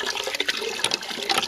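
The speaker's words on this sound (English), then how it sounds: "there's plenty of water in this pipe in the point right now." Water pours and splashes steadily from a pipe at an outdoor site in fall, a close, continuous rushing gush with no voices over it.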